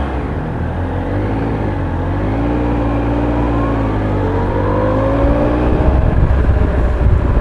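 A Triumph Tiger Explorer 1215cc motorcycle pulls away in third gear on a wet country road, its engine a steady near drone that rises gradually and grows louder toward the end.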